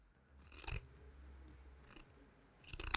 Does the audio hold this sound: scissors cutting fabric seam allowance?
yes